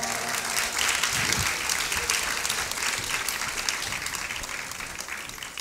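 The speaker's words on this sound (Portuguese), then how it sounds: "vamos recebê-lo com a salva de palmas" Steady applause from a church audience welcoming a visiting pastor, a continuous crowd clapping at moderate distance and fairly low level, holding evenly throughout.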